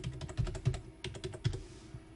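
Quick, light keystrokes on a computer keyboard as login details are entered, an uneven burst of close, quiet clicks with short pauses between them.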